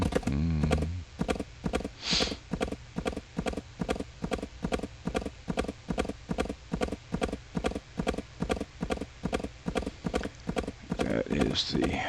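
Hooves of a horse clip-clop in the Wild West Dynasty video game, a steady rhythmic gallop of regular thuds running throughout, with a brief whinny or snort near the start.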